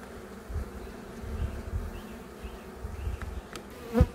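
Honeybees hum in a low, steady drone around an open hive being worked with a smoker during a colony inspection, with a few soft knocks and a sharper bump near the end.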